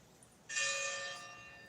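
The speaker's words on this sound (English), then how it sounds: "Y'all hear that bell? We hear the church bells." A church bell rings once, a single bright strike that hangs and fades slowly, heard at a moderate distance.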